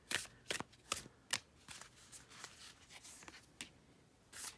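Oracle cards being shuffled by hand: a quiet, close series of quick riffling bursts, several sharp flutters in an uneven rhythm with short pauses between them.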